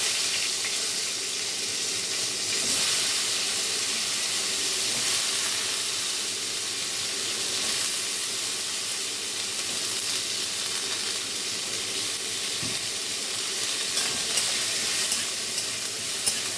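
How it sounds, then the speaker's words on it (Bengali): Cauliflower florets fry in a pan with a little turmeric, giving a steady, dense hiss and sizzle that holds evenly throughout without any talking. "ফুলকপিগুলো বেশ লাল লাল করে ভেজে নিতে হবে বন্ধুরা।"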